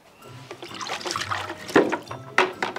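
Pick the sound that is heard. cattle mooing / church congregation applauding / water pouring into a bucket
water pouring into a bucket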